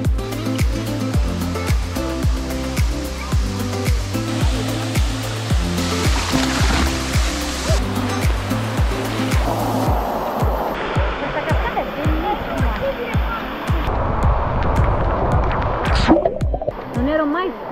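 A waterfall in Costa Rica pours in a continuous, close rush of falling water that stays steady throughout, with someone talking over it.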